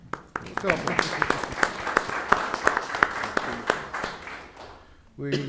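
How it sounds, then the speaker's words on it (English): People at a college board of trustees meeting clap for a nursing instructor, a modest round of individual claps in a room that fades out before a voice resumes. "We'll clap for her."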